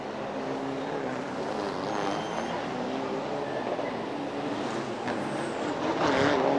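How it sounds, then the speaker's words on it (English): A Toyota Revo pickup racing on the Chonburi street circuit in a Thailand Super Pickup round, engine roaring steadily and loudly as it drives past, swelling near the end. "Songsak driving the Toyota Revo, leading everybody up the trail, down the curves"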